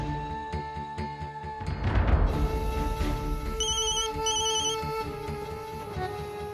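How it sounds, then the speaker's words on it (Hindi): A phone ringtone plays in repeated beeping bursts at moderate volume, with a soft rumble and no voices. "रिंग तो यहाँ से आ रही है।"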